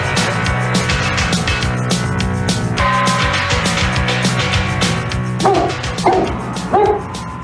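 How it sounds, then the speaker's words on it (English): A dog barks and yips several times over steady background music, the barks growing more distinct toward the end. "He barks every time someone comes to the door"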